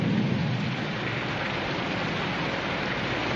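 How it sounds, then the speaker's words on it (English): Heavy rain falling in a Western frontier setting, a steady broadband hiss of downpour with a low rumble underneath, loud and constant with no voices. "The rain will wash out our tracks."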